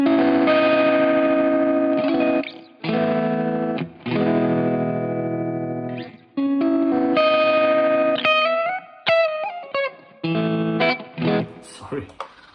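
A guitar runs through a Line 6 POD GO tremolo effect, playing chopped, pulsing chords and note runs in bursts with gaps, and a voice is briefly heard between phrases.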